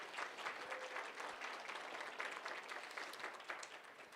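Audience applause at an annual benefit dinner, a steady round of clapping from a seated crowd, fairly faint and distant, continuing evenly throughout.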